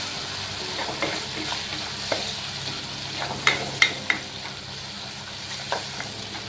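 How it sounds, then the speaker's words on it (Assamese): Fish roe frying with onion, salt and turmeric in a pan, a steady close sizzle broken by several scraping, clinking strokes of a spatula stirring, with no talking. "পেটুটো অলপ দেৰি ভাজিব লাগে"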